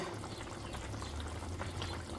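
Hot boiled water poured into a pan of stewing Transcarpathian meat rolls with porcini mushrooms, a steady, close splashing trickle lasting a couple of seconds with no talk over it.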